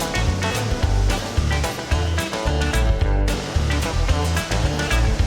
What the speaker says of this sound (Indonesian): derasnya aliran sungai yang telah dibendung